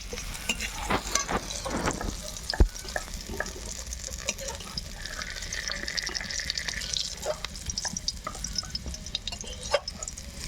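Whole spices for tempering, black and green cardamom, cinnamon and cumin, fry in hot oil for a paneer dish, giving a soft, steady sizzle broken by scattered clinks and scrapes of stirring.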